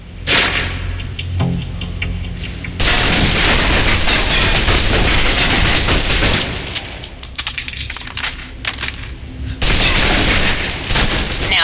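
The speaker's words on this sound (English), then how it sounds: "Now, let's move on to the submachine gun. Now let's empty the clip." Submachine gun emptying its magazine in the spy game Alpha Protocol, loud dense bursts of rapid automatic fire in several long runs with short breaks between them.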